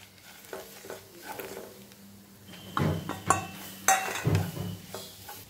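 Green pea kachori filling stirred in a pan over low heat, with a spatula scraping and clinking against the metal and faint sizzling underneath, louder scrapes near the end.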